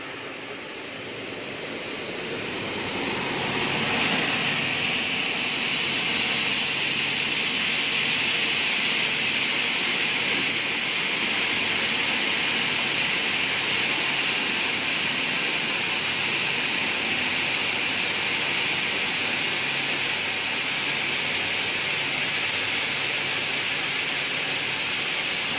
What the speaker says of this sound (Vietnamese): Khởi động motor.